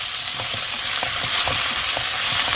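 Radish being stir-fried in a pan with a little water for a spicy squid stir-fry, giving a steady close sizzle with soft scraping stirs throughout, no voices.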